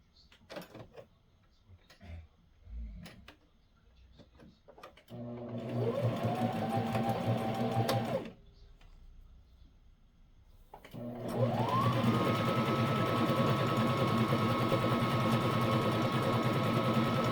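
A sewing machine stitches a wool diaper cover with elastic in two runs: a short burst of about three seconds, a pause, then a longer steady whirring run that spins up and holds close and clear.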